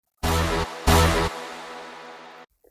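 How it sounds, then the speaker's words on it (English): A dry synth stab sample from a KV pack, with no reverb, pitched around E: two loud, short chordal hits followed by a longer sustained stab that cuts off cleanly, alone and up close. "It's a dry stab, a very nice stab."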